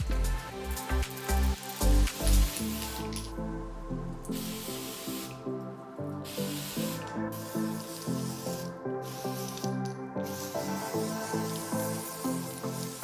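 Dry shampoo sprayed from an aerosol can onto hair while styling an updo: a long, steady hiss lasting several seconds, with brief pauses and repeated bursts, close and fairly loud, after some short knocks at the start.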